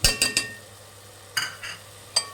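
A spoon stirs tomato rasam in a metal pot after jaggery goes in, giving a few distinct clinks and scrapes in two short bursts separated by a quiet pause, close and fairly soft.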